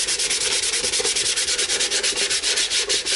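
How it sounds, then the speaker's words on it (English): Rapid, steady back-and-forth scratching across a painted surface to rough it up, a close, even rhythm of about six strokes per second with no talking. "here we want as many scratches as possible"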